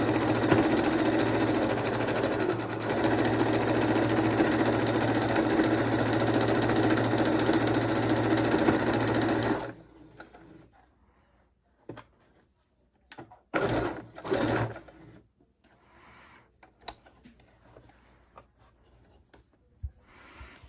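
A sewing machine stitches a scrappy fabric heart pillow, running in a loud, steady whir for about ten seconds, then stopping, followed by a few short bursts and quiet handling sounds.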